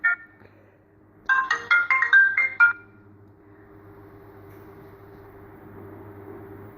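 A telephone ringtone plays a short electronic melody of several quick bright notes, loud and close, after a brief chirp at the start, then gives way to a low steady background hum.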